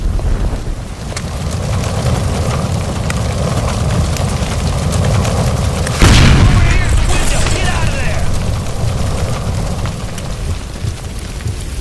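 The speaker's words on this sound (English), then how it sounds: "Shoot the gas line, Cole, we're out of here!" Gas line explosion in the video game L.A. Noire: a sudden loud boom bursts out midway over steady rumbling game ambience, then a crackling, hissing tail follows. Voices are heard faintly.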